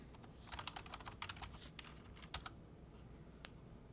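Someone types a name on a computer keyboard with a quick run of soft, irregular key clicks. A few scattered taps follow as the typing slows, close and fairly quiet.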